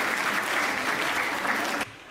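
Audience applause at a Hindi comedy and poetry stage show, dense steady clapping that fills the hall and then cuts off abruptly near the end.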